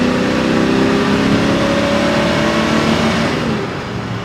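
A car fitted with a huge cam revs hard at high RPM, a loud, steady, close engine roar with rising harmonic tones that fades slightly at the end.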